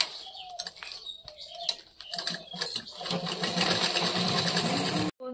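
Sewing machine running steadily as it stitches a folded rice sack into a bag, a continuous whirring motor with a fast needle chatter that grows louder and denser after a brief slow start, then cuts off abruptly near the end.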